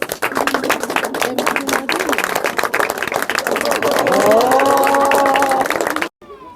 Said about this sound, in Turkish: genç ve zarif hanım ağa geliyor ona da alkışlıyoruz